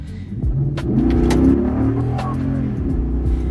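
Toyota Tundra engine fitted with an aftermarket intake, revving in a deep, steady roar that swells and holds, heard close and fairly loud throughout.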